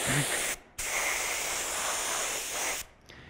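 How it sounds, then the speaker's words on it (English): Two long hissing bursts from a spray can painting a prop eyeball white, one brief and one sustained, close to the mic with short pauses between. "I'm just going to spray the eyeball white"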